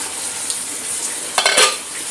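Paksiw na banak, mullet stewed in vinegar, cooks in a pot on a stove at medium heat, giving a steady soft sizzling hiss with a brief clatter of utensils partway through.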